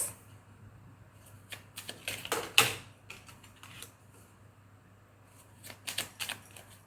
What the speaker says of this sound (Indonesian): aku akan tarik 4 kartu